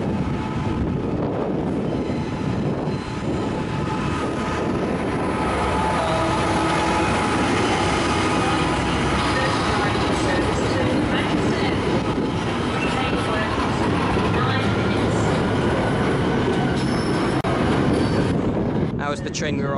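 A train pulls away from platform 13 at a station, bound for York, with a loud, steady rumble of wheels and carriages rolling past close by, while voices talk over it.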